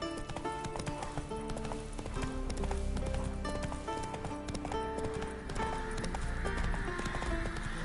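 A horse gallops in The Witcher video game, with rapid rhythmic hoofbeats throughout, a whinny, and game music layered over the steady clip-clop.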